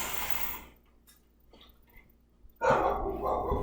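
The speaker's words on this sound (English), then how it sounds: "So when they hear me inside, they have to bark and let me know" Neighbor's dogs barking from outside a house: a loud burst of barks, a near-silent gap with faint yips, then another loud round of barking.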